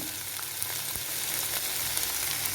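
Chili flakes tipped into hot oil give a steady, close sizzle and crackle with faint stirring, no voices over the frying.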